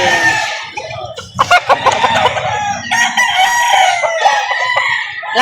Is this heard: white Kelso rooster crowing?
yes